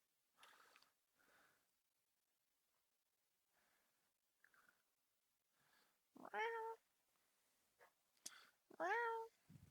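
A house cat meows a few times, two clear drawn-out meows near the end following softer short sounds, close and fairly loud against an otherwise quiet room.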